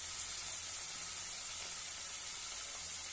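Green peas sauté in a pan with a faint, steady frying sizzle and hiss that runs unbroken throughout, with no talk.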